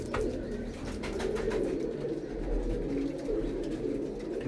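Pigeons coo repeatedly in a loft or coop, a steady low murmur of overlapping calls that continues throughout with no talk.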